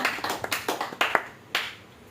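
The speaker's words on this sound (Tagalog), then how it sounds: "Maraming palakpak." A congregation clapping at a prayer meeting, a handful of close, uneven claps in a brief burst over a quiet room.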